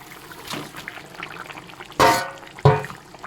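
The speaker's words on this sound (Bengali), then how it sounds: "এখন এর মধ্যে আমি মাছগুলোকে ছেড়ে দেব।" Fish slipped into a bubbling curry broth for a Bengali jhinge-aloo chara pona dish, two sharp splashy plops close by over a low simmering hiss.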